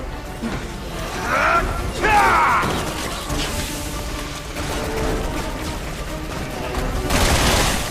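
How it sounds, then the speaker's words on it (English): Helicopter gunfire in the video game Resident Evil 6, a dense chaotic barrage of gunshots, crashes and mechanical noise filling the whole stretch, with bursts of louder fire near the start and end. "The helicopter will pretty much rain fire down on you"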